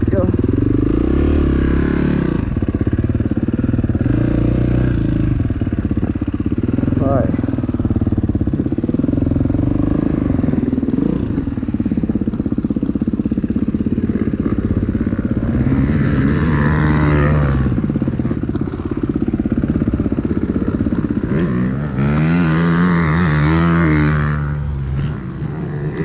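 Motorcycle engine revving and pulling away during an amateur practice ride, loud and continuous throughout with people talking over it and rising throttle surges near the end.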